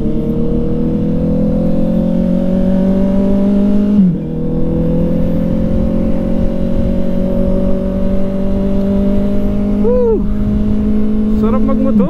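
A Honda CB650R motorcycle at speed on a highway in the Philippines gives a steady, loud engine drone with wind roar. The engine note climbs slowly, dips once at a gear change, and a few chirps come near the end.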